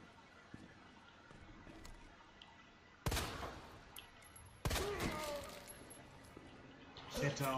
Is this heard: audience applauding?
no